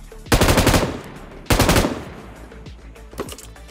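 Rapid automatic gunfire from the mobile battle royale game BGMI (PUBG Mobile): two loud, close bursts about a second long each, followed by a few scattered single shots and faint echoing background noise.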